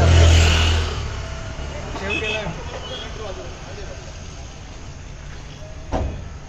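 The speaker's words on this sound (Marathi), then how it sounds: "यो बघ ट्रॅफिक ट्राफिक" Road traffic rumbles on the Mumbai-Goa highway, heard as a continuous mid-level drone of passing vehicles, with people talking nearby over it.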